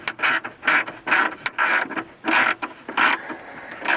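A hand ratchet clicks in quick repeated bursts while tightening a bolt on a Dodge Dakota stereo head unit during installation, close and loud with short pauses between strokes.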